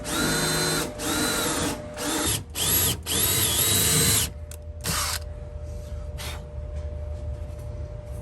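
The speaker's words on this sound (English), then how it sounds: "We're gonna install a few nutserts and away you go." Power drill boring holes for nutserts in a Jeep Wrangler fuel cell bottom plate, several loud close bursts of whining drilling with short pauses, trailing into quieter ratcheting and handling noise.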